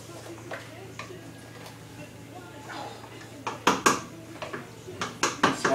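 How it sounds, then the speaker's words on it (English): A spoon stirs elderflower cordial in a container, clinking and scraping against the sides in a quick run of sharp taps that grows louder toward the end, heard close over a faint low hum. "I'll just give that a little stir"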